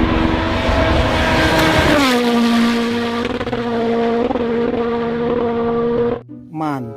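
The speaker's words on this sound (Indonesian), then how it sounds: "Mobil balap, teman-teman." A toy race car's electronic engine sound effect revs up and then settles into a steady whine, loud and close, running for about six seconds before cutting out, followed by a short burst of a different tone.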